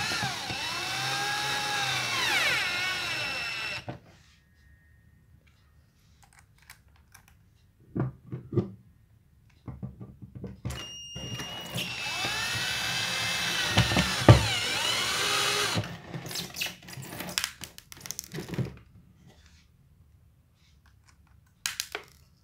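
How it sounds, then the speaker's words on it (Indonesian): A power tool bolts a motorcycle fuel tank onto its engine, giving two separate bursts of whirring motor whine that rises and falls in pitch, with scattered clicks and knocks in the quiet gaps between. "langkah terakhir kita baut lagi untuk menyatukan tangki dan mesinnya"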